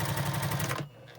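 A sewing machine stitching fabric strips together, a fast steady mechanical whir close up that stops abruptly near the end.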